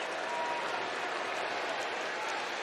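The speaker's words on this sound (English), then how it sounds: "The crowd is getting loud." Roaring baseball stadium crowd at a Brewers vs Cardinals game, a dense, steady wash of cheering and applause that holds loud and unbroken throughout, with a faint voice underneath.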